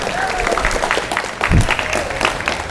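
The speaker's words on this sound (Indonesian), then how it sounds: "tepuk tangan dulu dong, tepuk tangan dulu dong" An audience at a public speaking practice session claps together in a dense, steady burst of applause that carries on for a few seconds, with some voices mixed in.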